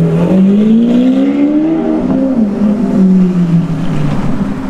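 A car engine revs loudly and close by, its pitch climbing and falling in long sweeps with a throaty roar.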